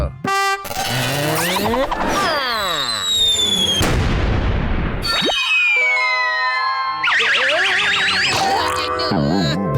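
Loud cartoon rocket launch in a Hindi kids' animated show: a rising whistle, a booming blast and sliding, boinging whooshes come one after another in a dense, continuous burst of comic effects.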